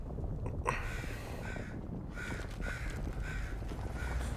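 A crow in an animated show gives several harsh, repeated caws over a steady low rumble of background noise, moderately loud, with no talking.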